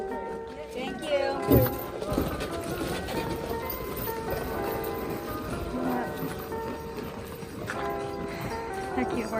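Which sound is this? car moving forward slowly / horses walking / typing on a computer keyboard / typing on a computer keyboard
horses walking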